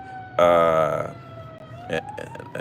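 A siren wails out loud and close, a steady high tone that slides lower as it passes, with a short burst of harsh noise and a few rough bumps near the end.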